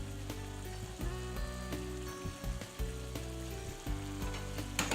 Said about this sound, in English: take the pasta right to our pan of shrimp here and stir it all up